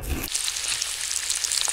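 Small amount of ghee hitting a hot pan in a home kitchen, a sharp thump as it lands and then a steady, bright, crackling sizzle that continues close and fairly loud.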